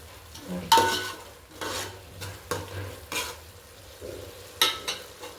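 Masala for a fish curry sizzles in a pan while a spoon stirs it, with several scraping strokes at irregular intervals over a steady low frying hiss; no one speaks.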